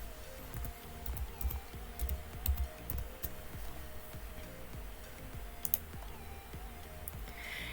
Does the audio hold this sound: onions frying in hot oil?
no